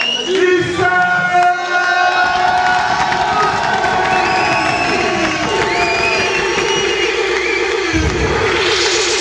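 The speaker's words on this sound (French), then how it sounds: "Applaudissements! On applaudit bien fort!" A large crowd at a K-1 kickboxing event cheers and shouts loudly, with high excited voices and whistles ringing out; clapping is faint beneath the sustained roar.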